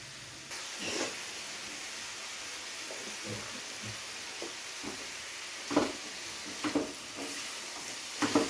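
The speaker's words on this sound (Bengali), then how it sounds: "তো এবারে এই সমস্ত কিছুকে একসাথে খুব ভালো করে ভেজে নিতে হবে।" Spices and ten to twelve cashew nuts frying together in a pan for paneer butter masala, a steady soft sizzle with occasional stirring scrapes and clinks standing out near the end.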